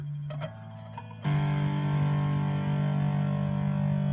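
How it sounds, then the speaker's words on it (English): A distorted electric guitar, gain high and volume low, plays a couple of short picked notes, then a loud crunchy chord rings out and sustains. "that's how you get that crunchy, distorted rock sound"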